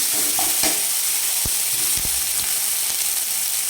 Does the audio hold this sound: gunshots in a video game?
no